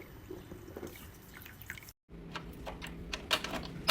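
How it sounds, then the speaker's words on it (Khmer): About two liters of water are poured into a cooking pot, heard as soft close dripping and splashing that stops briefly in the middle and then resumes with brighter drips and small splashes. "ខ្ញុំចាក់ទឹកចំនួន2លីត្រចាចូលទៅក្នុងឆ្នាំងហ្នឹង"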